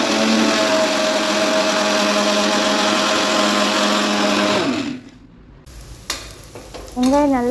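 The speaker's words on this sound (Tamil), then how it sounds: "இப்போ நம்ம இஞ்சி, பூண்டு, கொத்தமல்லி இலையும் சேர்த்து அரைச்சி எடுத்துக்கலாம்." A kitchen mixer grinder blends ginger, garlic and coriander leaves for a mutton gravy, giving a loud, steady whirring drone that stops abruptly about two-thirds through, followed by brief clatter and a faint restart.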